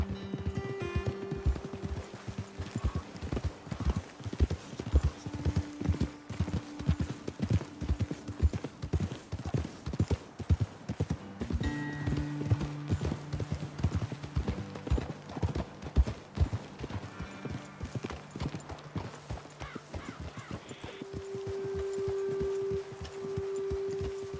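Horses ridden along a trail in Red Dead Redemption 2 produce a steady, rhythmic clip-clop of hooves, close and continuous, with occasional snorts and a soft game music tone underneath.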